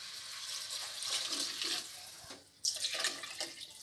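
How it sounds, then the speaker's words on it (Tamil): Water splashes and gushes steadily into a pot of rice for soaking, broken by a brief pause before the flow resumes. The pouring is close and fairly quiet, with no voices. "இப்போ இதுக்கு நம்ம 3 பொடி தண்ணி ஊற்றணும்"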